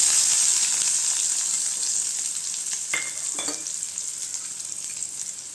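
Onion frying in hot oil with cumin and dried chilies for a sundakkai koottu, a steady close sizzle with a couple of brief stirring clinks.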